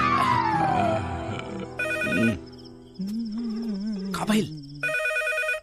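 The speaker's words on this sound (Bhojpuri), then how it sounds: "अरे कौन पपिया है टाइम में फोन करे रे? रिंग जाता।" A landline telephone rings in two short bursts, loud and close, with people talking over and between the rings.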